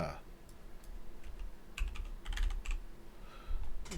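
Rapid, irregular bursts of typing on a recently cleaned computer keyboard whose keys are misbehaving, with sharp clicks clustered in quick runs and short pauses between them, close and moderately loud.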